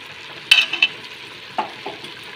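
Chicken sizzles steadily in a pan while a utensil stirs, scraping and clacking against it a few times in quick, sharp strokes.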